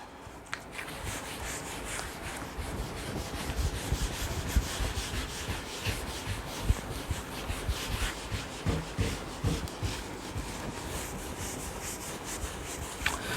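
Writing is rubbed off a board in continuous close scrubbing strokes that hold steady and moderately loud without a break.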